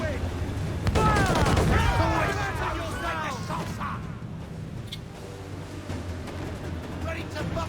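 Ship cannons in Assassin's Creed Black Flag fire a broadside, a heavy burst of booms rumbling under shouted crew voices, followed by lingering low rumble and scattered cracks.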